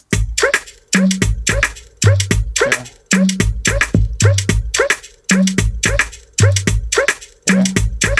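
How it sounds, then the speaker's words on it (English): Dry, hollow udu drum hits in an African percussion pattern, repeating in a steady looping rhythm of short thuds and slaps, close and loud. "Udu sounds, an African sound,"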